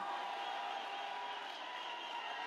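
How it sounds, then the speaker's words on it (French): A distant crowd at a Paris event for President Félix Tshisekedi and first lady Denise Nyakeru Tshisekedi cheers and applauds in a steady, faint wash of noise with no distinct claps standing out. "sous vos applaudissements"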